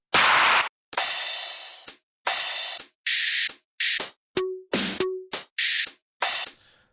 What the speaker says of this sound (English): So there's a hi-hat that I like.